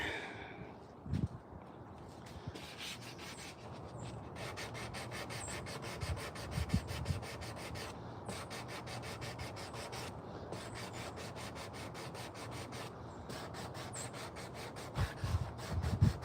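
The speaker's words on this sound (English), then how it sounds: "I like these sanding blocks" A carved wooden spoon is worked over with sanding blocks, giving close, steady rhythmic rubbing strokes in repeated runs with brief pauses and a few soft knocks.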